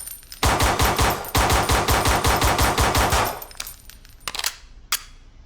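Loud bursts of rapid fully automatic fire from an M16 rifle hammer out in two long strings of evenly spaced shots, followed by a few scattered metallic clinks.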